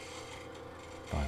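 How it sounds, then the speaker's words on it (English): Negative rake scraper rasping across the bottom of a turned wooden box on a lathe, a short close scraping rub that ends in a louder burst. "I'm using a negative rake scraper to just kind of clean off the bottom here just a little bit more"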